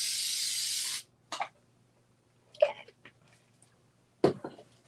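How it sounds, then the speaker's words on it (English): Spray adhesive hisses onto foam for a zip-around wallet in a single loud burst of about one second at the start, then quieter handling sounds and a few soft voice noises follow. "I'm just gonna do a little spray"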